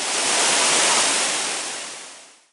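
The Bantimurung waterfall in Maros, South Sulawesi, gives a loud, dense, continuous rush of falling water that fills the whole span, then fades away at the end; no voices.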